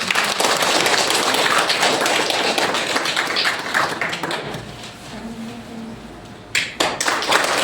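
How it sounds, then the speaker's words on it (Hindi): Audience at a school parents' meeting clapping steadily and loudly for several seconds, then thinning out and fading before a brief final burst of claps. "चलो ताली।"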